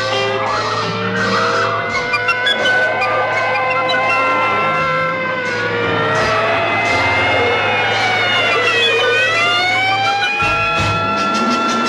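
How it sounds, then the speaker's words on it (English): Multiple police car sirens wail and overlap during a car chase in a 1966 comedy film, loud and continuous over engine roar and tire skids, with sirens sweeping up and down. "There are three police cars following us."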